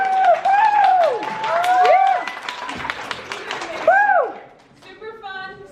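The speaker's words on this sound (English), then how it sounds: "give a big round of applause" An audience at a homeschool Essentials program presentation breaks into clapping mixed with loud whoops and cheering voices that rise and fall, then fade into scattered chatter.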